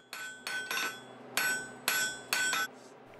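A forging hammer's flat face strikes metal on an anvil, refining a surface to final dimensions in a workshop. Six sharp, ringing blows fall at a steady, unhurried pace, close and with no talking.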